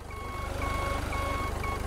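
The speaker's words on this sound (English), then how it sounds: "Beep, beep, beep. Back it up." A truck's reversing alarm in the Beer Factory video game: a steady run of high electronic beeps repeating at an even pace over a low idling engine rumble, with no talk.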